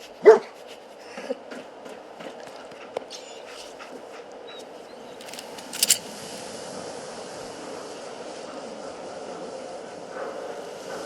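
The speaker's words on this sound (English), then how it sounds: "Dog meat, huh? Hell of an animal." Dogmeat, the dog companion in the video game Fallout 4, barks sharply and close once at the start, then gives a few softer yips over a quiet ambient game background.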